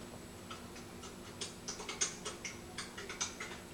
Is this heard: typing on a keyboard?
yes